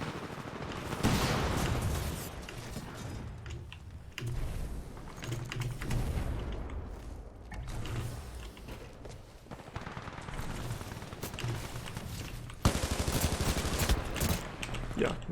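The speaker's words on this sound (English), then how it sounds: "maybe I shouldn't use an SMG from this range" Sustained bursts of SMG gunfire in a SpongeBob SquarePants Battle for Bikini Bottom-era video game stream, rapid dense rattling that runs almost continuously with brief gaps, loud and close, layered over steady game background noise.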